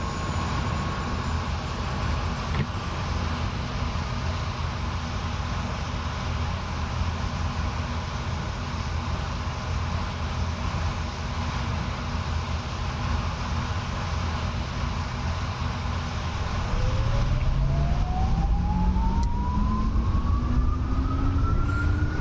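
Turbine whine of an SA-342 Gazelle helicopter in the DCS flight simulator spools up under a steady engine roar, with a rising tone climbing steadily toward the end as the start sequence builds, loud and continuous with no talk.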